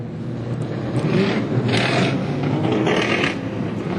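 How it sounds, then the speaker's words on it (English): A street stock race car engine at a speedway runs rough and unhealthy with a ragged mechanical drone, heard from a distance and fairly steady with a few harsher surges. "The 31 car not sounding too happy."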